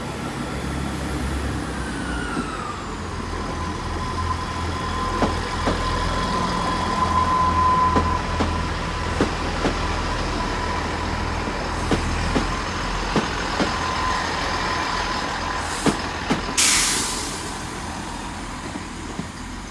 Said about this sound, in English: we've got the Great Western Railway service to Plymouth about to depart